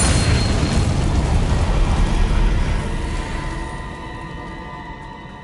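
A Bombarda spell blast in the game Hogwarts Legacy: a loud, broad explosive boom with a rumbling tail that slowly fades, heard alone.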